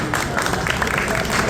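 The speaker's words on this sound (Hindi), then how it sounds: "तालियां बजती रहे" Applause at a district bar association ceremony in Giridih comes as dense, continuous clapping from a gathered crowd, with no breaks.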